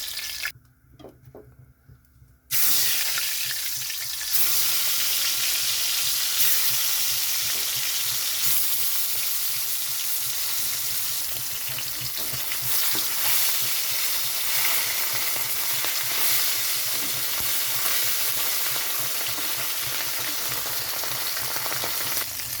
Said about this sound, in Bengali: এখানে আমি মাছ অলরেডি ভাজতে দিয়েছি